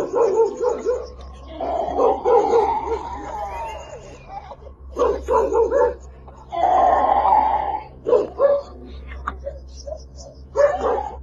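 A dog barks, yips and whimpers in bursts over a low background hum, with voices mixed in.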